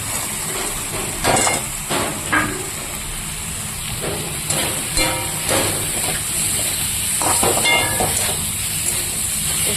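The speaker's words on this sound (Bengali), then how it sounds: "এবার আমি ওর মধ্যে দিয়ে দেবো ভেজে রাখা নিউট্রেলাটা নিউট্রেলাটা দিয়ে একবারে কষিয়ে নেব" Mixed vegetables and pre-fried soya chunks sizzle in a pan with a steady, close hiss, broken by occasional clinks and scrapes of stirring, and no voices.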